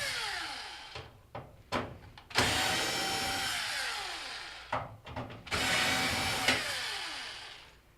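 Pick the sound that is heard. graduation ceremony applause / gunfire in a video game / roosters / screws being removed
screws being removed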